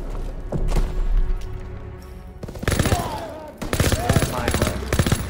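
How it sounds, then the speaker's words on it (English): Gunfire in the Call of Duty WWII D-Day mission: rapid bursts of automatic fire and sharp single shots crack in dense clusters, loud and close, with heavy thumps and a voice speaking between volleys. "there's firing going on"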